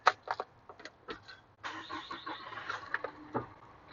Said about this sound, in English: Going to start the vehicle.